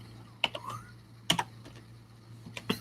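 Close computer keyboard typing in sparse bursts, a few sharp key clicks separated by pauses over a low steady hum.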